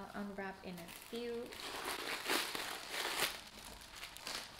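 Crinkly wrapping rustles and crackles as a Gucci Soho handbag chain is unwrapped, close and fairly soft, following a brief voice at the start.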